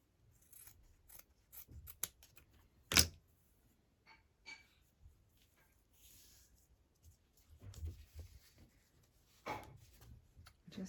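Scissors cut fabric in short, crisp snips scattered through a quiet room, with one louder close snip standing out among soft rustling and handling noises.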